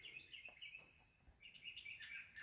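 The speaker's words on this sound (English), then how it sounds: "There's a lot of bird sounds" Birds chirp outside, with high, thin tweets and calls repeating through the whole stretch, faint and distant, with no voices.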